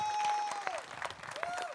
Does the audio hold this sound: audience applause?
yes